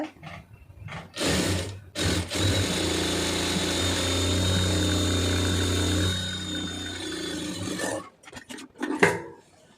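A sewing machine stitches along the folded edge of blouse fabric in one steady run of several seconds, close and fairly quiet. Brief handling noises come before and after the run.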